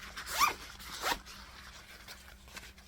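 A zipper on a Vera Bradley fabric pouch pulled twice in quick, close strokes, each a short raspy zip, followed by quiet handling and light rustling, with no talking.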